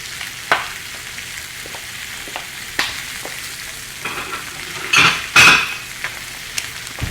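Split chicken breast frying in a pan, giving a steady crackling sizzle with occasional sharp clinks and scrapes from utensils, plus a louder burst of spattering near the end.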